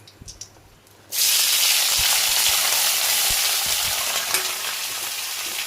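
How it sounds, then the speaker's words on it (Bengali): Chopped onions hit hot oil in a pan for a mutton curry over a high flame, bursting into a loud, steady, close sizzle after a brief quiet moment and hissing on without a break. "তো পেঁয়াজগুলো একটু লাল লাল করে ভেজে নেব"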